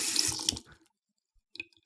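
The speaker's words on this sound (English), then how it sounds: "Now we've clicked it, the water's running now." Water from a game's blueprint tap runs briefly in a hissing splashy stream, then cuts off into silence before a few faint drips and splashes follow.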